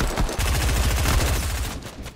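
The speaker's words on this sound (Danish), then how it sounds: "Jeg bliver skudt fra en anden side også" Rapid automatic gunfire in the Fortnite video game, a dense burst of loud, evenly spaced shots lasting about two seconds, close and alone without talk.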